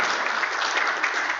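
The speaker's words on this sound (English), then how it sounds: "A round of applause." Audience applause at a Software Freedom Day 2021 event, a short burst of many people clapping together, dense and steady at a fairly strong level, with no talking over it.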